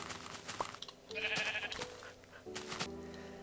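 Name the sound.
sheep bleating in the video game Minecraft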